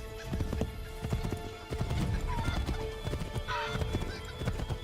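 A horse gallops in the video game Assassin's Creed III, a loud rapid clip-clop of hooves with a whinny partway through, over steady game ambience and no speech.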